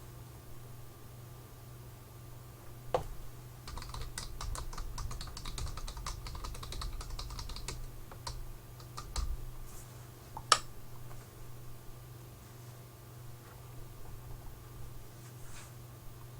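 Typing on a computer keyboard, with quiet rapid clicking in bursts and a few sharper key strikes over a steady low hum, with no voices.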